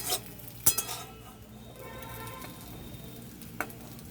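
Food frying in a karahi while being stirred, a low continuous sizzle with sharp metallic clinks of the spoon against the pan at a few moments.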